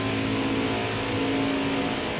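Craftsman Truck Series race trucks roar past with a continuous, loud engine drone at Auto Club, a steady layered hum and whine with no voices.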